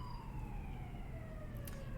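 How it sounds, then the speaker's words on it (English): Emergency siren wailing in a steady falling sweep, heard from a moderate distance over a constant rumble of road traffic, with no voices. "cue siren"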